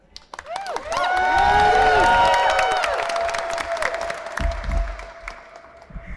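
A crowd at a Transgender Day of Visibility rally in Harrisburg, Pennsylvania bursts into loud, sustained applause and cheering with high whoops and shouts, swelling after the first second and then slowly tapering over several seconds.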